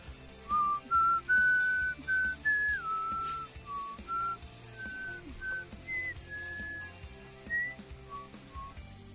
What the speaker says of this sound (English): I'm whistling to the music I'm playing in the background.